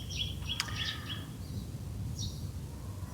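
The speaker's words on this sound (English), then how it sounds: "it's very quiet here, apart from the bird sound" Small birds chirp and twitter in short, high bursts at a quiet Buddhist temple, fairly distant, over a low steady background hum.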